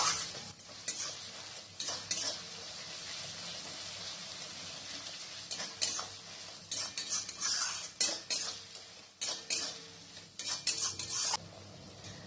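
Onion, ginger and garlic fry in a pan over a medium flame, a faint sizzle running underneath while a utensil repeatedly scrapes and clinks against the metal in irregular bursts, growing busier toward the end, with no talking.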